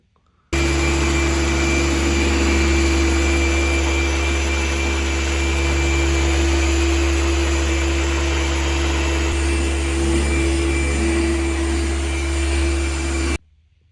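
A polishing machine buffs scratches out of the paint on a Hyundai's hood, a loud, continuous whirring drone that starts abruptly, holds steady for about thirteen seconds, then cuts off sharply.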